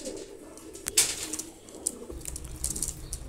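A pair of pigeons kept with their young chicks gives soft, low coos close by, with a brief flutter of wings and light background rustling.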